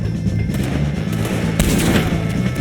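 Gunfire in the Red Dead Redemption video game during a fight with the O'Driscolls, a dense, steady barrage of shots and booms layered over constant rumbling noise with no clear gaps.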